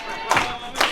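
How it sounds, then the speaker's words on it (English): Wrestling crowd at a Sacrifice Pro independent show roars in two short surges, a swell of cheers and claps about half a second apart over a steady hum of arena noise. "the more the crowd fires up behind Tommy Kyle"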